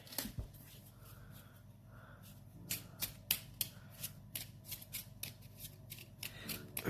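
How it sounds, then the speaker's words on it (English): Playing cards shuffled at a board game table for a Dungeons and Dragons game, a close series of sharp riffling snaps and flicks in irregular bursts over a quiet background. "shuffling your cards like that probably isn't the best idea"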